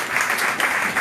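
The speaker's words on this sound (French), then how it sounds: "Est-ce que l'église a pas applaudi diacre pour moi s'il vous plaît?" A church congregation applauding a deacon during a service, a short burst of dense, even clapping from the assembled crowd.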